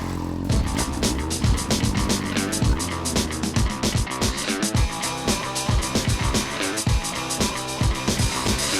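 Lightweight high-compression racing motorbikes of about 80 kilograms, without brakes, roar continuously at a race meeting in Sheffield, a loud, dense engine drone with rapid rising and falling revs throughout.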